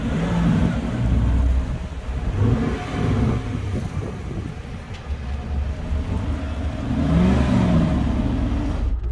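Dodge Charger V8 Hemi police car with 368 brake horsepower accelerating on UK streets, a deep rumbling engine rising and falling in revs, heard from inside the cabin.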